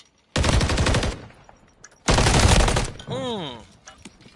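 Gunfire from a gunfight in a competitive shooter video game during a bomb round: two dense, loud bursts of rapid automatic fire about a second long each, separated by a short pause, followed by a brief warbling tonal game effect.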